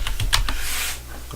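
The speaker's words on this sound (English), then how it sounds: "We're going to our command prompt. and we're going to type ping" Quick burst of keystrokes on a computer keyboard as a ping command is entered at a command prompt, several close, crisp clicks followed by a fading tail.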